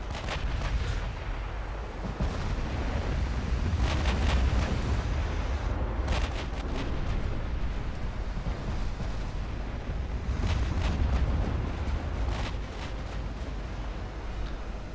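Naval artillery fire from warships in the naval battle game Ultimate Admiral Dreadnoughts, heard as repeated heavy booming salvos over a constant rumbling battle bed, with a few sharp cracks standing out among the sustained roar.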